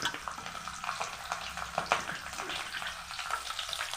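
Mustard seeds and garlic frying in hot oil, a dense crackling sizzle with sharp pops scattered throughout, steady and close with no voices.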